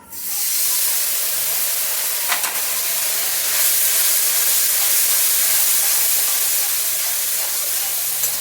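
Water poured onto spice paste frying in a pan while cooking a banana-flower dish, giving a loud, steady steamy hiss and sizzle that holds for the whole stretch, with a brief clatter near the middle.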